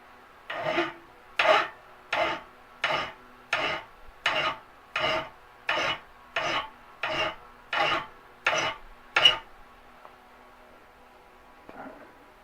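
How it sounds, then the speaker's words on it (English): Hand file rasping on a metal pocket wrench, about twelve regular back-and-forth strokes at a steady rhythm, close and clear, then the filing stops and a brief faint knock follows. "file some of that off with a hand file"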